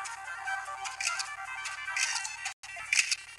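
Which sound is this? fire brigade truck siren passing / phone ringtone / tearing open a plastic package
phone ringtone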